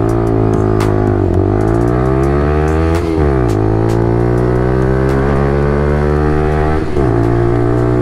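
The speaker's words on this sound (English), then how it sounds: "now I'm on a proper motorbike" A 125cc motorbike engine drones loudly and steadily while riding, its pitch climbing and dropping with each gear change or throttle roll.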